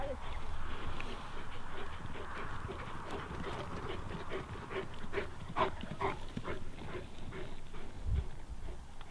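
Several Grand Bleu de Gascogne hounds bay and yelp together outdoors during a hunt, their voices overlapping continuously at moderate distance, with some rustling in the background.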